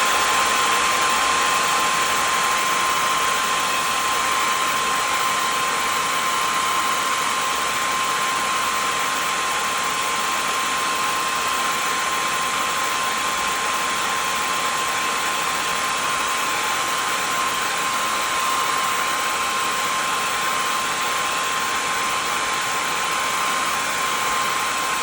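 A heat tool blows hot air over a mixed media craft project in one loud, unbroken whirring drone that holds steady for the whole stretch, close to the microphone and with nothing else heard.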